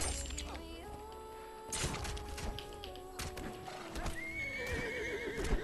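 A horse in a video game neighs and whinnies in shrill rising calls amid clip-clopping hooves and a sharp shattering crash, with bright game tones layered over it.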